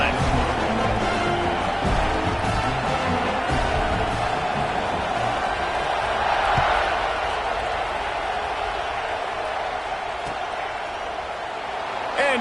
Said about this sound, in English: This place is roaring